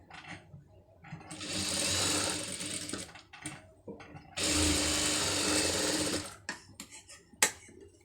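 A sewing machine stitches the sleeve joint of an Aari-work blouse in two steady whirring runs of about two seconds each, close up, separated by handling clicks and fabric rustle.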